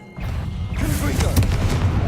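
A Confringo fire spell from Hogwarts Legacy detonates as a sustained booming blast with crackling bursts, loud and close for about two seconds, with no talk over it.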